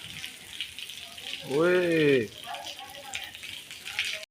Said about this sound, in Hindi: बारिश माशाल्लाह ज़बरदस्त बरस रही है